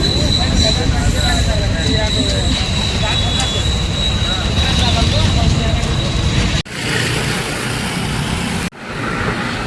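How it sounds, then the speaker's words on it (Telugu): Continuous loud rumbling and clatter as a train rolls past close by at a railway level crossing, a steady roar with a high whine above it and abrupt breaks near the end. "ట్రైన్ అయితే ఇప్పుడు వచ్చింది"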